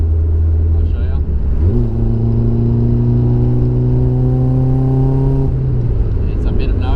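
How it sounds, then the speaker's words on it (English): Holden Gemini with its exhaust bung removed, the engine loud and close as it idles, rises into a held rev for several seconds, then drops back to a rough idle. "Luckily I've got the little bung for the exhaust, which I'll fit in when I get to Rego. It's a little bit loud at the moment."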